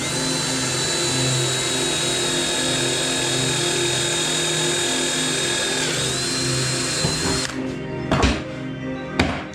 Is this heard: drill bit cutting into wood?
yes